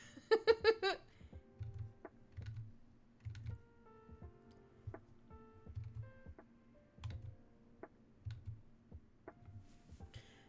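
Quiet typing on a computer keyboard: irregular soft clicks and taps spread through the clip, with a brief high giggle-like sound near the start and a low repeated hum in the background.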